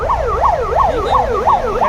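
Police siren wailing near a fire scene in New Delhi, loud and close, its pitch sweeping up and down in a steady rapid yelp over low traffic rumble.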